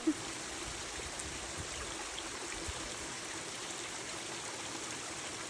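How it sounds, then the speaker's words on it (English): Steady rushing water pours down a rocky Appalachian Trail path in the White Mountains like a waterfall, a constant even roar filling the clip with no talk. "Another day on the AT where our trail is a waterfall."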